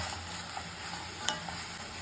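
Onion and tomato sautéing in a pan for onion sabzi, a continuous close sizzle with soft stirring scrapes and one sharper clink of the spoon partway through.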